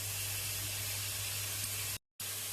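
Vegan bolognese made with canned roasted tomatoes cooking in a pan, giving a steady broadband hiss and sizzle with a low hum underneath that breaks off briefly near the end.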